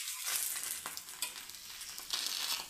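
A spongy poha dosa sizzles steadily in oil or ghee in a pan as it is turned over, a continuous close hiss with a few soft scraping touches.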